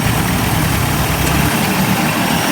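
A 1990s 30 hp Evinrude outboard motor idles steadily in neutral, a continuous low rumbling drone with even loudness throughout and no voices.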